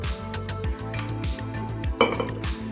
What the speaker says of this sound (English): Throw some ice cubes in there.